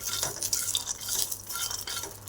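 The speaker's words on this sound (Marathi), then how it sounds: "हे बघा मी शेंगदाणे भाजण्यासाठी टाकलेले आहेत" Raw peanuts dry-roasting in a pan for a peanut chilli chutney, stirred steadily so a continuous close scraping and rattling rolls on throughout, with no voices.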